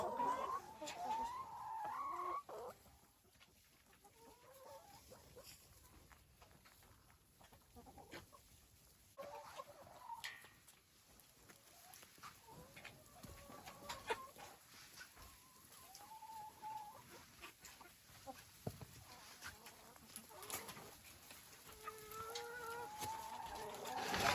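Barn chickens cluck and chatter steadily at a low level, with repeated short calls scattered across a quiet, continuous background.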